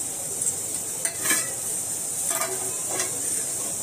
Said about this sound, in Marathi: तडक्यासाठी एक टोप आपण ठेवलंय गॅसवर, त्याच्यात थोडंसं तेल टाकूया